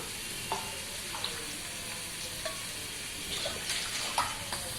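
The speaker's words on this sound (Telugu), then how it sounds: "సో 5 గ్లాసెస్ వాటర్ వేసుకుంటాను." Water is poured into a pot for boiling rice for egg dum biryani, making a steady, close splashing rush with a few clinks.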